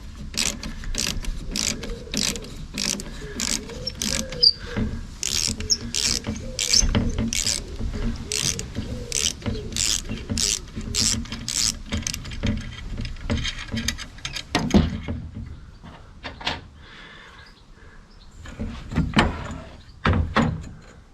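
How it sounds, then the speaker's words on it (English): A ratchet screwdriver removing two screws from a snapped boat rudder clicks in rapid, rhythmic bursts for about twelve seconds, then slows to scattered clicks and handling knocks, close and fairly loud. "So let's remove these 2 screws."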